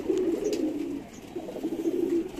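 A pigeon coos close up in a soft, low, throaty rolling call, repeated twice in quick succession with no talk over it.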